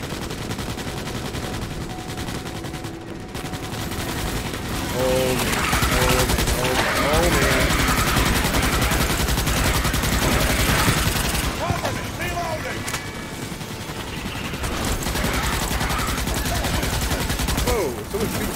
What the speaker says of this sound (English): Whoa, someone's shooting.